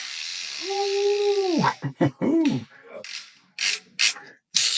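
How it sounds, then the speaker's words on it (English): A Piscifun Alijoz Elite fishing reel's bait clicker rattles in quick, loud bursts of ratcheting clicks, stopping and starting, with a brief squeaky tone at the start. "Bait clicker is loud, y'all."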